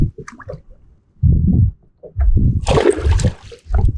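A caught fish let go back into the water, with a close sloshing splash and gurgle amid brief handling noises and bursts of water movement.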